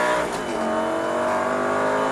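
Close, loud race car engine accelerating steadily on a track during a Superleggera driving session, a continuous rising drone with dense harmonics, heard from inside the car with no talking.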